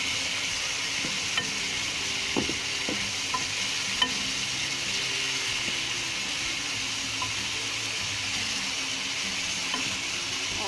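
Spice paste for a kachki fish chorchori fries gently over lowered heat, a low, even sizzle running throughout with occasional soft taps and scrapes of a stirring spoon.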